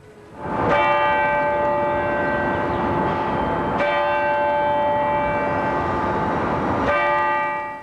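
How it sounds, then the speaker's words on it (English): A church bell tolls slowly at a funeral for a fallen hero in downtown Cincinnati, March 2001. Three loud, resonant strikes about three seconds apart, each ringing out into a long sustained hum. "The bell tolls for a fallen hero."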